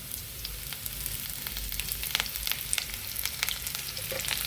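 Oil hits a pan of vegetarian soybean curry and sizzles with a dense, crackling hiss and scattered pops, steady and close for several seconds.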